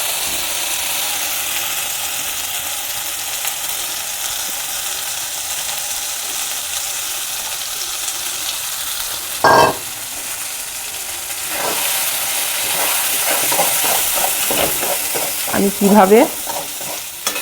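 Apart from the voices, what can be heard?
pea paste frying and being stirred in a pan for kachuri filling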